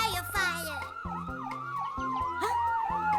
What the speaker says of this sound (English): Fire engine siren.